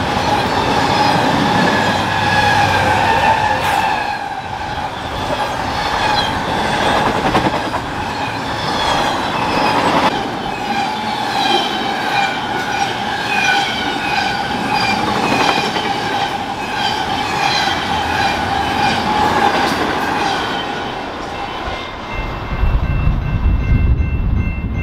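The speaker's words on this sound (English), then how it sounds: "this one was a fast-moving, high-priority, long and heavy train." A long heavy BNSF freight stack train rumbles past close by at speed, wheels clattering rhythmically with metallic squeals, the loud roar continuing steadily throughout.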